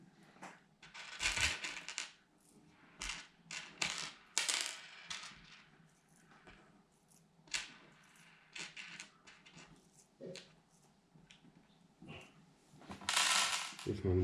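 Small screws being driven in to fix motor wires on a reverb pedal build, with close, faint clicks, scrapes and ratcheting taps coming in irregular bursts with quiet gaps between.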